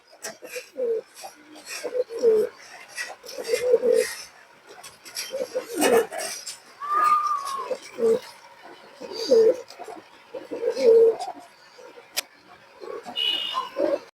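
Repeated low pigeon coos, about a dozen soft throaty calls in a steady rhythm, with someone talking over them throughout.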